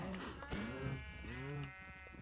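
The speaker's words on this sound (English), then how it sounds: "How is there another sheep in here now?" Sheep bleating in Minecraft, several wavering baa calls in quick succession, fairly faint over a soft background hum.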